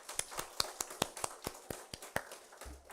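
A church congregation clapping at a Sunday service, sparse irregular claps rather than a dense burst, fairly close and moderately loud, with no talking over them.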